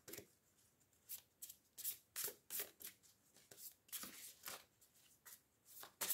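Oracle cards being shuffled by hand in a quiet room, a soft run of papery riffles and rubs in uneven bursts, close and fairly faint, with no talking.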